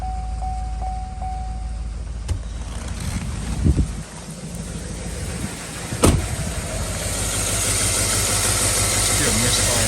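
A Chevy V8 idles with a misfire, a low uneven rumble heard close, with a few short beeps at the start, a couple of sharp clunks in the middle, and speech over parts of it.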